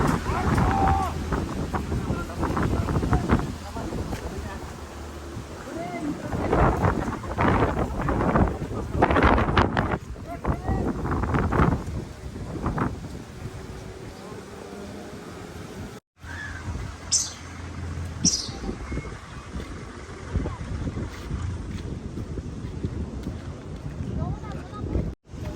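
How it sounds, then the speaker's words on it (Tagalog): Strong gusty wind buffets the microphone in a constant roar in Tagaytay, Philippines, with people talking intermittently through it and a bird cawing in the distance. "Grabe yung hangin."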